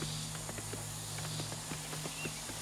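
Regular footsteps in the video game Dawn of Defiance, a brisk series of soft thuds over a steady low hum, close by and with no voices.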